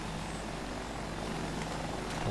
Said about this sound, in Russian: Вертолет вражеский